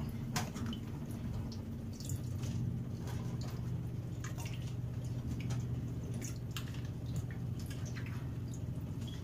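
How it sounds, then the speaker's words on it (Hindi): Water drips and trickles steadily from washed mangoes in a strainer, scattered small drops pattering over a low background hum. "छन्नी में इसको निकाल लेंगे ताकि सारा पानी ड्रेन हो जाए।"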